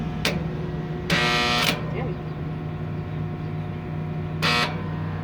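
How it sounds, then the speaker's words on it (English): Stick welding powered by jumper cables clamped to power lines: short, crackling arc bursts flare three times, one lasting over half a second, over a steady low electrical hum. "All right, let's weld."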